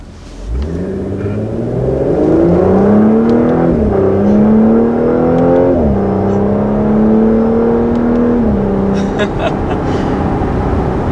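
A 2020 Audi S5 convertible engine revs up and down through several rising and falling sweeps, loud and close, with a steady exhaust drone and a few crackling burbles near the end.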